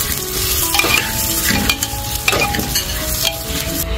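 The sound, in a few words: broken wheat (dalia) frying in ghee in a pressure cooker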